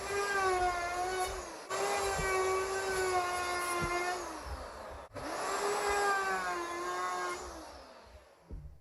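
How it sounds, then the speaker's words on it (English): A router cutting a plywood drawer face, a loud high whine in two long passes that dips briefly between them and then winds down, close up with no talking. "For fun, I think I'll router this drawer face."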